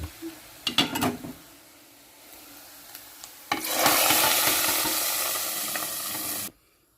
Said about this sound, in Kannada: ರೆಡಿ ಆಯ್ತು ಈ ಒಗ್ಗರಣೆನ ಸಾರೊಳಗೆ ಹಾಕಿದ್ರೆ ಆಯ್ತು ನೋಡಿ